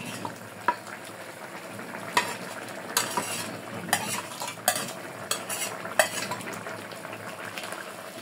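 Prawns being stirred into an okra curry as it fries in a pan, with repeated scraping and clinking of a spoon against the metal and a steady sizzle underneath, close and fairly loud, no talking.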